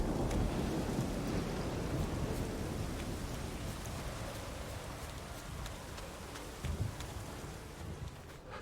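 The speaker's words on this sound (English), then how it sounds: "Especially in this storm." Heavy rain pours steadily in a thunderstorm in The Witcher 3 video game, with a deep rumble of thunder underneath, loud at first and slowly easing, with no talk.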